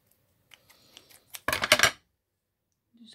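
Scissors snip through fabric during a craft project making embellishments, a short burst of crisp close cutting after a few light handling taps, then quiet.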